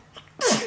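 A single short, sharp sneeze from a six-month-old baby, close and fairly loud, after a brief quiet breath.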